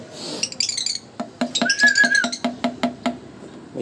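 A blue opaline pet bird chirps close by in quick repeated tweets and a short whistled note, loud and clear, with brief pauses between bursts.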